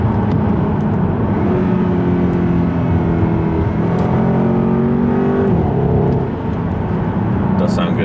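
Naturally aspirated V8 in a Jaguar winds up hard, the engine note rising in pitch for several seconds while the car accelerates, then easing off as it shifts; loud and close throughout.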